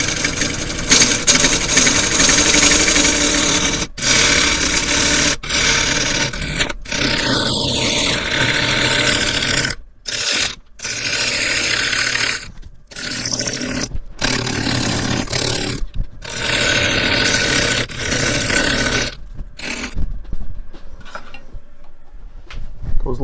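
Harvey T-40 lathe spinning a walnut bowl at 700 RPM, a loud continuous whir with repeated tool cuts and scraping, broken by several brief gaps as the turning stops and restarts.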